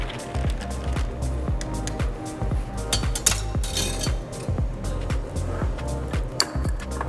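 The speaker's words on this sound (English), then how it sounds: "Give it a little stir." A spoon stirs a soda cocktail in a glass, making a run of quick, light clinks and scrapes at a steady pace over a constant low background hum.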